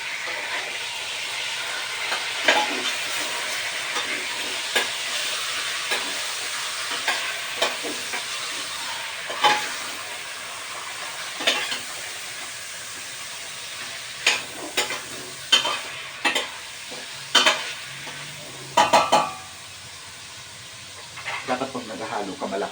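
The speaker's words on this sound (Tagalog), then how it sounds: "halo ka malakas para marinig ng mga kapitbahay." Chicken tinola cooking: food sizzles in a pan while a utensil scrapes and clanks against the pot in irregular strokes, with a voice speaking intermittently.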